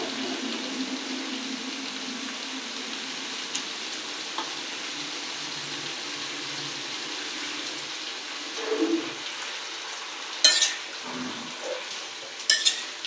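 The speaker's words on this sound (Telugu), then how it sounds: "వేసుకుని ఉప్పు, పసుపు వేసి కలిపి మూత పెట్టేస్తాను" Tomato, salt and turmeric are stirred into a sizzling cauliflower potato curry in a pan. A steady frying hiss runs throughout, with a few sharp clinks of a spoon against the pot near the end and no talk.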